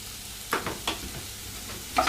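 Garam masala and tomato puree are stirred in a sizzling pan for an aubergine and chickpea curry, with a steady low sizzle under three short scraping strokes, two close together early and one near the end, and no talking.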